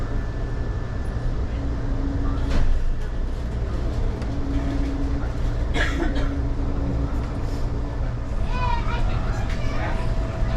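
Steady low rumble and rolling drone from inside an Amtrak Southwest Chief passenger train crossing New Mexico, with faint clacks and squeals over the constant interior noise and voices talking throughout.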